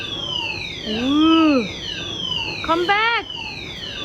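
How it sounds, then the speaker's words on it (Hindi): A fire alarm rings in a shopping mall, sounding rising-and-falling electronic whoops that repeat in quick succession over a background of distant chimes, with a voice speaking briefly. "फायर वन अलार्म चल रहा है वहाँ पर।"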